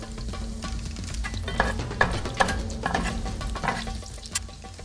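Small bars of meat sizzle steadily in a hot skillet while being stirred, a continuous frying hiss broken by scraping, clacking stirring strokes close at hand.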